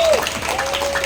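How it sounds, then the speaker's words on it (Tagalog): A church congregation claps for the Lord in a short burst of steady applause, with a faint held tone sustained underneath. "Grabe po yung palakpak mo sa Panginoon."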